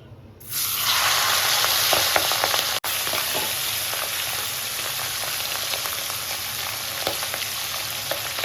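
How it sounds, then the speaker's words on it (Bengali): Katla fish heads drop into hot oil and set off a sudden loud, crackling sizzle that holds steady and close for the rest of the clip, with a brief dip partway through. "মাথাগুলোকে ভালো করে ভেজে নেব"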